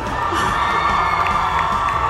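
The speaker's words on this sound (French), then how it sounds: "je vous demande un tonnerre d'applaudissements pour Brenadine" An audience at the Europa Cosplay Cup, held at the Paris Manga & Sci-Fi Show, cheers and whoops for a cosplayer, a loud, dense burst of shouting and applause filling the hall throughout.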